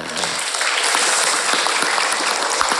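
Loud, dense applause from a crowd at an Isra' Mi'raj religious gathering, sustained and even throughout, close and enveloping with no talk on top.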